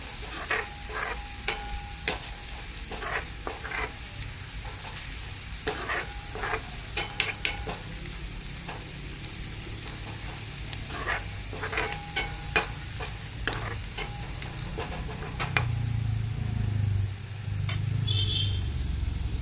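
Onions fry in an iron pan for a mackerel chilli curry, hissing steadily up close while a spoon stirs and scrapes in repeated sharp clatters, with a low rumble near the end.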